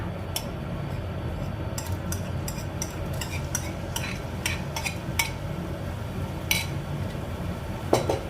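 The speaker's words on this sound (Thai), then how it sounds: "แล้วก็ตั้งกระทะนะคะ ใส่น้ำมันลงไปนิดนึงนะคะ แล้วก็ใส่ตัวพริกแกงที่เราตำเอาไว้นะคะ" A utensil scrapes and clinks against a pan as pounded curry paste stir-fries in a little oil, over a steady low frying hiss, with irregular taps throughout, close and moderately loud.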